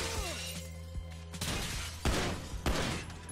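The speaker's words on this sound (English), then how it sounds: "Takes a lot of shots to kill these guys." Gunfire erupts in the open-world crime game GTA V, with several sharp sharp bursts and shattering impacts crashing over a low rumbling backdrop, loud and close.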